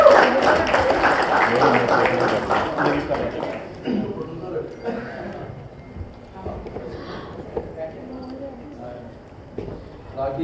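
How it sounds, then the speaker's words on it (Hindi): An audience at a Hindi film poster launch claps in a dense burst that fades over a few seconds, with a host talking loudly over the applause and continuing after it. "इन सभी के लिए जोरदार तालियां बजाइए।"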